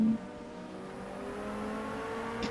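Race car engines in a racing game mod during a 4-hour endurance race at Catalunya with P2 cars: a steady, moderately distant engine drone with rising tonal whine, faint and continuous, no talk over it.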